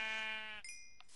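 A sheep in the Minecraft video game gives a single short bleat, close and fairly quiet, followed by a couple of bright chiming game effects.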